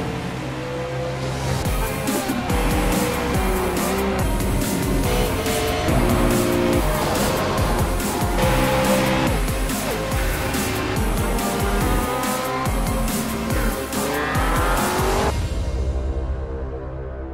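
Race cars in the iRacing sim racing game, VW Beetle and Ford Fiesta touring cars in a winter series round, roar loudly and continuously with engine drone and tire squeal throughout before cutting off near the end.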